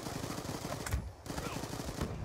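Rapid automatic gunfire in a Call of Duty Black Ops 2 team deathmatch against bots, dense fast bursts that pause briefly and resume, loud and continuous.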